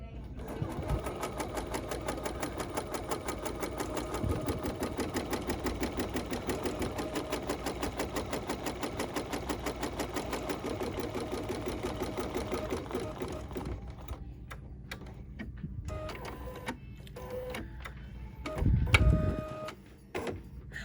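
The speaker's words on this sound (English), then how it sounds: "all I'm going to do now is stitch that basting stitch" A sewing machine runs a basting stitch on fabric for a flip-flop sole design, a fast steady mechanical whir for about twelve seconds, then stops and starts in short bursts with a few clunks, while a person talks.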